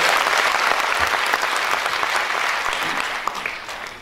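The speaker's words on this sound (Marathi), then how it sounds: "यांच्यासाठी एकदा जोरदार टाळ्या." A large audience at a lecture series event in Ambad, Jalna gives loud, sustained applause to the stage volunteers, a dense wash of clapping that slowly tapers off toward the end.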